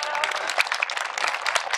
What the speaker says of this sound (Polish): Brawa, brawa.